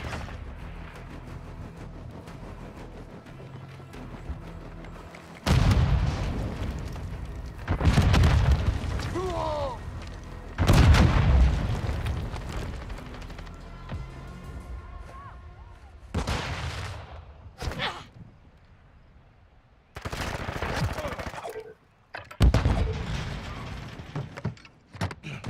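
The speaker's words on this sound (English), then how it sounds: "I'm taking enemy fire!" Gunfire and explosions from a Call of Duty: Modern Warfare II match on the Embassy map come in several heavy booming bursts spread through the clip, with quieter rattling between them and brief game voice lines.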